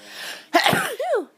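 A single sharp sneeze bursts out close by, followed by a brief breathy vocal sound.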